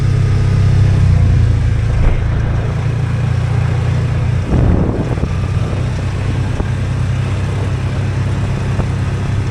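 A Polaris Ranger 500 utility vehicle rumbles along a trail, its engine holding a steady, loud, low drone with a brief rise in revs midway and no talking.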